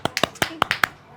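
Several sharp hand claps for a guest on a talk show, uneven and close, around seven quick slaps spaced irregularly with a brief voice murmur between them.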